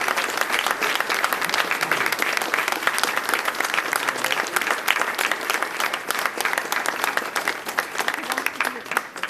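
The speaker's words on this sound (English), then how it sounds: "Everyone give this young lady a round of applause." Crowd at a mayoral press conference applauding a young girl, sustained dense clapping that continues at an even level for several seconds, with a voice faintly audible beneath.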